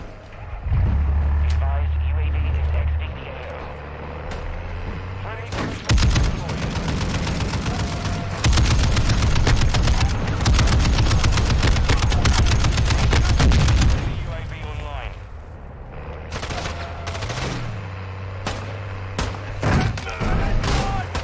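Gunfire in the Modern Warfare 2 beta, loud rapid bursts of shots packed together in the middle stretch with scattered cracks before and after, a player talking over parts of it.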